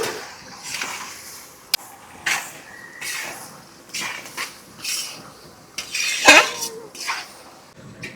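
Marinated chicken goes into a wok of fried masala at an outdoor picnic cooking session, with clanks and scrapes of a metal spoon against the wok, a few sharp clinks and soft sizzling between them.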